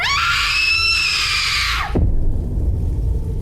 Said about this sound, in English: this girl in a white dress standing in the middle of the road, screaming her lungs out